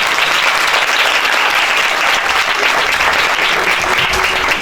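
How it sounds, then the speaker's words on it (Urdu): A church congregation gives loud, sustained applause, a dense continuous clatter of many hands clapping at once that fills the room for the whole stretch without a break. "خدا کے جلال کے لیے زوردار تالیاں بجائیں گے۔"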